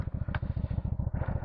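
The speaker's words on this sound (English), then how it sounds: "Giving it a little rev." Keeway V Cruise 125 motorcycle engine idling close by with a fast, even thumping pulse and a brief light blip of throttle, no speech over it.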